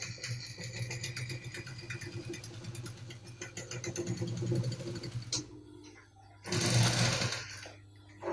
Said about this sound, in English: I'm going to stitch it straight.